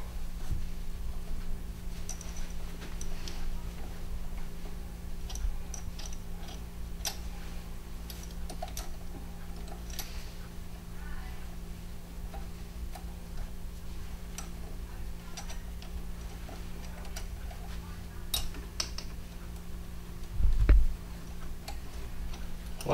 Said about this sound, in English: With the same 5 millimeter Allen wrench, you'll want to remove the 3 mounting bolts.